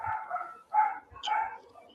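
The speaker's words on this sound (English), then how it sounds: "You hear the dog barking?" A dog barks in a few short, mid-loud bursts with pauses between them, heard alone without talk over it.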